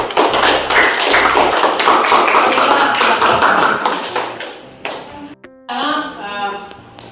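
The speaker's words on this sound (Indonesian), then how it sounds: "tepuk tangan untuk kelompok 3" Classroom applause for a student group, a dense run of many overlapping hand claps that carries strongly for about five seconds, then thins out and fades as a voice begins speaking.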